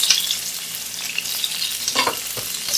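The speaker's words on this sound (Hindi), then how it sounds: "प्याज को अच्छी तरह से सौटे करेंगे और लाइट पिंक कलर फ्राई करेंगे इससे" Onion frying in hot oil with cloves, black and green cardamom, bay leaf and cinnamon stick for a chicken liver dish, loud continuous sizzling close by with spatula scrapes as it is stirred.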